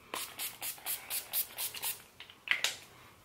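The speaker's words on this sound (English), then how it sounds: "more spray. Last time," Makeup setting spray is pumped close up in about eight quick, rhythmic hissing spritzes, followed by a few sharper, scattered spritzes after a brief pause.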